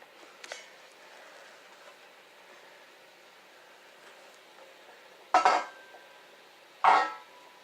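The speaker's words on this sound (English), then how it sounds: "You want to take off the lid and then just put it back here." Two sharp metallic clanks of a pot lid, one lifted off and another set back down a moment later, over a faint hiss.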